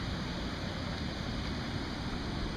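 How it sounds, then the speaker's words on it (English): A waterfall beside the Elkhart River pours with a constant rushing roar, a dense, even wash of water noise from start to finish, with no talking over it. "So there's that waterfall on this side."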